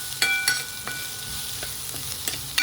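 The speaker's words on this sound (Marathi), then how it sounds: "त्याच्यामध्ये हे भाजलेले चणे आपण टाकून घेऊया." Roasted fresh green chickpeas go into a hot pan for a Maharashtrian harbhara bhaji and are stirred. A steady sizzle runs throughout, broken by several sharp scraping stirs close by.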